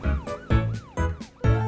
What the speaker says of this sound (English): I flash my lights and turn on my siren